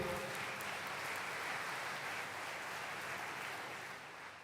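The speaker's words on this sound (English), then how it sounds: "That is your applause, Mr. Barden." An audience applauds at the BharatBenz plant inauguration, a steady, faint wash of clapping that carries on for several seconds before tapering off.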